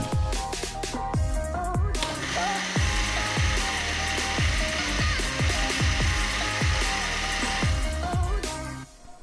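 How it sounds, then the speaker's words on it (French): A blender whirs through black sesame paste, a loud steady motor drone with repeated rhythmic thumps as the thick mixture churns, running close and continuous for about nine seconds before cutting off. "on va mixer le tout jusqu'à obtenir un mélange homogène"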